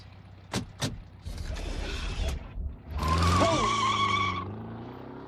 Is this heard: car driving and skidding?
yes